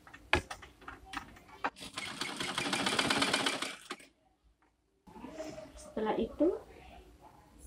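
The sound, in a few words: sewing machine stitching fabric pieces together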